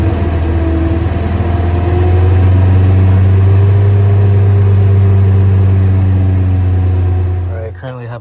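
A worn, warmed-up car engine idles steadily at close range with a strong low hum, set up for an intake carbon clean, and keeps running for most of the stretch before cutting out near the end.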